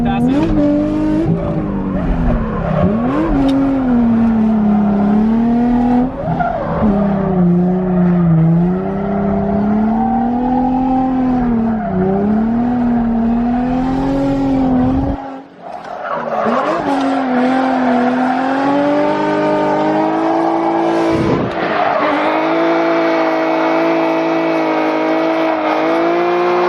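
A Nissan 350Z laps a race track, its engine droning loud and continuous with rising and falling pitch through gear changes, tires squealing as it corners hard; a brief lift near the middle, then the car pulls hard again.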